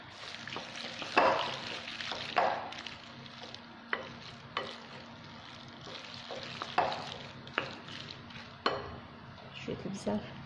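Macaroni croquette mixture with melting cheese being stirred in a pot, giving soft scraping and occasional utensil clinks against the pan over a faint sizzle; fairly quiet and close, with a few louder knocks.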